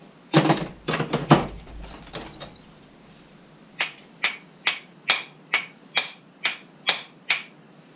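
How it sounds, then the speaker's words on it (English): A few loud clanging metal strikes of a hammer on brass scrap at a scrap yard come first, then a steady series of about ten sharp, evenly spaced taps ringing out one after another. "I can hit it with a hammer."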